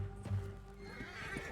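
Horse whinnying and hooves clip-clopping in Red Dead Redemption 2: a short, moderately loud neigh over scattered hoof thuds, with game ambience and no speech.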